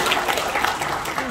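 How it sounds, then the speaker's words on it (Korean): Applause from an audience of farmers and townspeople at a Goesan county talk, steady, fairly loud clapping from many hands with some voices mixed in. "박수 주세요."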